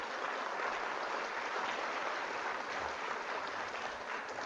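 An audience at a distance-learning program applauds for a guest, a steady even wash of clapping that holds at moderate loudness throughout without a break.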